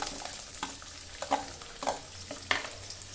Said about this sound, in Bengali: রসুনটা আমি হালকা করে নাড়বো